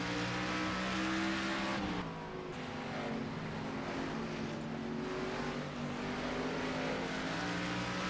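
Race car engines from a Monster Racing stock car in a racing video game at Nashville Fairgrounds, a loud steady drone with shifting harmonic pitch as the car runs past, no talking.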